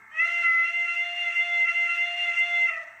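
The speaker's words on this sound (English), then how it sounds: "Okay, F2 is whistle." The whistle sound of a Bachmann N scale K4 model steam locomotive blows a steady, sustained tone for about three seconds, clear and fairly loud, with no talking.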